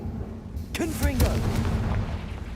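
In Hogwarts Legacy, a Confringo fire spell lands with a dull boom and a crackling burst, brief and moderately loud. A voice speaks briefly around the blast.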